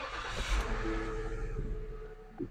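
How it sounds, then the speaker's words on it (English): A car engine idles steadily inside a vehicle while an adapter is plugged into the port, a low continuous rumble with a faint tonal whine and a brief bump near the end. "It starts your engine."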